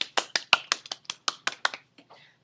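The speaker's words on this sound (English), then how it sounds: "Give you guys a round of applause." A small group of children in a classroom clap about a dozen times in an uneven, loose rhythm, fairly close, with the claps trailing off and a faint voice at the end.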